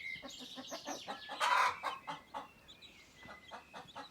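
Close, loud clucking from a hen announcing a freshly laid egg, a rapid uneven series of squawks peaking in one strong cackle midway, with other fowl in the background.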